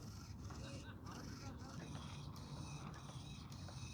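Control-surface servos on a Hangar 9 Piper Cub RC plane whir and tick in brief mechanical bursts, faint against steady low background noise.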